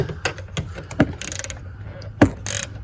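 A ratchet turning a car battery hold-down bolt, with short bursts of rapid clicking between sharper knocks and metal clanks, close up and without talking.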